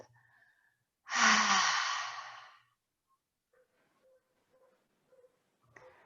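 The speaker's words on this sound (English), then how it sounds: "Breathing in through the nose and out through the mouth." A single slow breath drawn in through the nose and let out through the mouth during a quiet yoga session, one soft, airy exhale lasting over a second, then near silence with faint small sounds.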